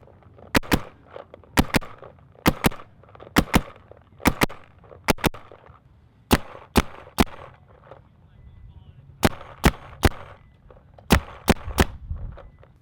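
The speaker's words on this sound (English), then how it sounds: "You can hear that kind of like more dragged out, slower sounding gun, that G04, to the TM40 that just sounds quick and crisp" A TM40 and a G04 toy gun fire in turn, giving sharp, close pops in uneven pairs and bursts with short gaps between them, and a voice is heard faintly in the background.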